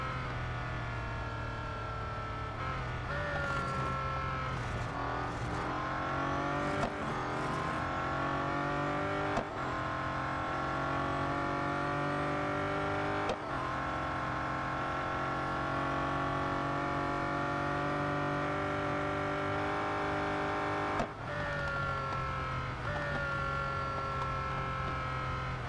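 A Bolide race car in Real Racing 3 drives at speed, its loud, close engine whine climbing in pitch through repeated gear shifts, with brief dips between upshifts over a long continuous run and no voices.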